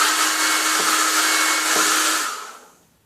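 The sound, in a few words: hairdryer running to warm up metal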